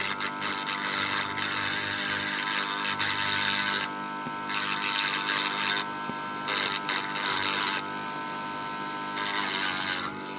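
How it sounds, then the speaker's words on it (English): Handheld Dremel rotary tool grinding an opal, a steady high-pitched whine with bursts of harsher grinding as the bit touches the stone, over a constant low mains hum. "let's try with the Dremel on this side"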